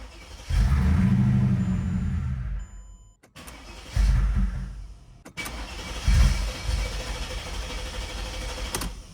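A Mercedes E55 AMG with newly replaced fuel pumps cranks over in three loud, close bursts with short pauses between them. The starter churns steadily, but the engine never catches or fires.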